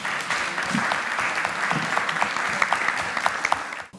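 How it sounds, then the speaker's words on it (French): Steady applause from a municipal council audience honoring newly installed deputy mayors, a dense wash of many hands clapping at moderate distance, sustained then cutting off abruptly. "Permettez-moi donc d'applaudir et de féliciter nos 11 nouveaux maires adjoints"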